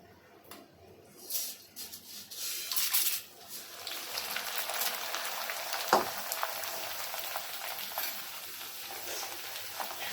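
Corn poha chivda frying in hot oil, a dense continuous sizzle with bursts of stirring and scraping near the start, steady and close throughout.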